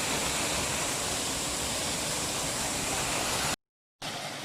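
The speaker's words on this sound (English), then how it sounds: "New waterfall." Steady roaring rush of a newly formed waterfall coming off Richmond Mountain near the Wallibou River, St Vincent, loud and close, broken by a brief moment of silence before resuming.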